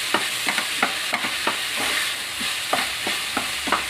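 Tomatoes fry in a pan for a beef curry, a steady hiss of sizzling oil broken by regular scraping strokes of a spoon stirring them, close and clear with no talk.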